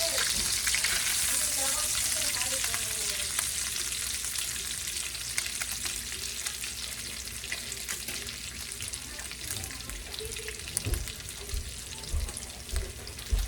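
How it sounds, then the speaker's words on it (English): Bacon fries in a pan with a constant, close crackling sizzle throughout, and a few clanks and knocks near the end, with faint voices in the background. "Making bacon."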